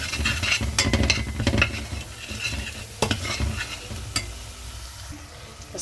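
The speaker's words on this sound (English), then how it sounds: "I'm going to mix this in and incorporate this with our onions," Spices and garlic are stirred into onions and ginger frying in a pan, giving a soft continuous sizzle with scraping spoon strokes and a few sharp clinks against the pan.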